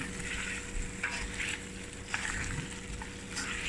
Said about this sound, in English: fry your onions a nice dark brown, but without burning it, and brown your meat